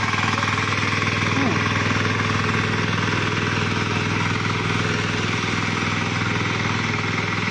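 A 10 hp mini power tiller engine runs steadily while working wet, muddy ground, giving a loud, continuous, throbbing mechanical drone that stays even from start to finish with no talking.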